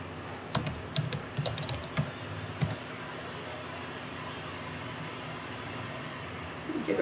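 Computer keyboard typing out PHP code, with a few close, crisp clicks and short bursts of keystrokes early on, then a steady low hum of background noise.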